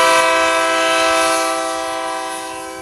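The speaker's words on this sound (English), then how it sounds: "blow the Junction train whistle" A single loud, sustained train whistle blows in a radio studio, a rich chord of steady tones that holds and slowly fades toward the end.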